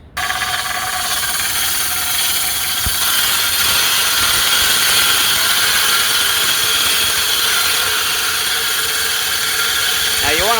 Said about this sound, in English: Let's continue backlapping.